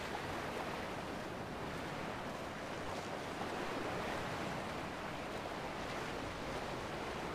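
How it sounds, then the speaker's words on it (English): Constant wind and crashing surf on a rocky coast, a steady broad roar with no pauses and no voices, moderately distant. "It's a very windy day today."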